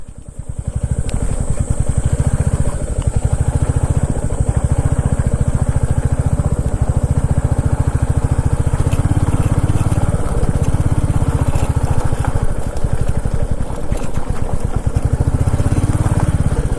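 A motorcycle engine chugs steadily and close-up as the bike rides off-road along a jungle track in heavy rain, with a continuous rhythmic rumble.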